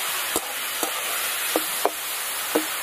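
Sliced beetroot fries in hot oil with dried chillies, giving a steady broadband sizzle throughout, punctuated by a few short, sharp stirring knocks of a spatula against the pan.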